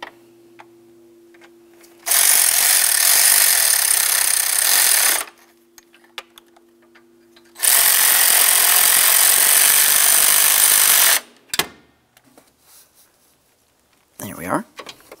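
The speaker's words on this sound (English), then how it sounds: "Once you have all four of those mounting bolts started in, snug them up." A power tool snugs up exhaust shield mounting bolts during a catalytic converter manifold swap on a 2009-2019 Ford Flex, running in two loud, steady bursts of several seconds each, separated by quiet pauses with faint clinks.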